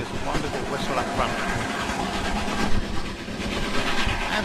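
Steam locomotive running through the Balkan countryside, a continuous rumbling, clattering rail noise with rhythmic wheel clicks, fairly close and steady, with a voice speaking over it.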